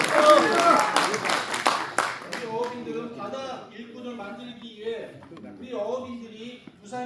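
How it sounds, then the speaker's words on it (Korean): Audience applause at a special lecture in Busan, a burst of clapping in the first couple of seconds that quickly fades as a voice takes over and continues speaking. "박수!"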